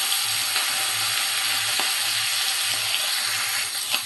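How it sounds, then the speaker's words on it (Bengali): Koi fish fry in oil in a pan with a steady, even sizzle that hisses on alone without talk, at close range and a moderate level. "মাছগুলো আমার ভাজা হয়ে গেছে"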